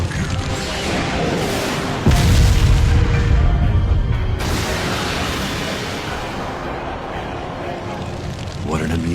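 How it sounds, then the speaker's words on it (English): An anime fire-style blast erupts in a fight scene, a loud roaring, crackling whoosh with a heavy booming surge that sustains for several seconds under dramatic music, with a voice shouting during the attack. "Now burn for me! Fire style, majestic hurricane!"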